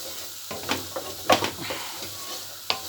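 Pumpkin with turmeric sizzles steadily in a frying pan while a utensil stirs and scrapes it in soft, irregular strokes, with a few sharper clinks against the pan, all close and fairly quiet.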